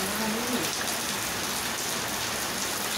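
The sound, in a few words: rain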